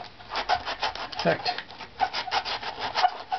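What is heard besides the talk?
sanding wood backplate by hand with sandpaper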